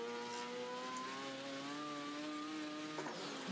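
Race car engine in an Assetto Corsa mod video game, a steady buzzing drone held under throttle with slowly shifting pitch, played alone with no talking and a short bump near the end.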